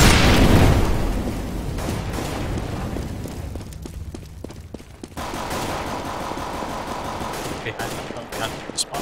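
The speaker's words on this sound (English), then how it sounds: "Grenade out!" A heavy grenade blast booms loud and close at the start in a video game, followed by rapid bursts of gunfire and scattered single shots, with some voice chatter beneath.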